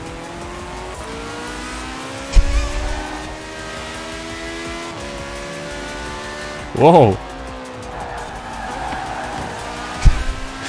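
Small three-wheeled cars race along narrow streets in Forza Horizon 4, with steady engine whine, a few sharp thumps and a short squeal, while someone talks and exclaims over the action.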